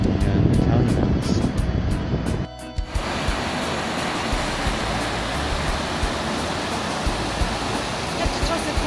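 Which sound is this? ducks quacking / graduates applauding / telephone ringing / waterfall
waterfall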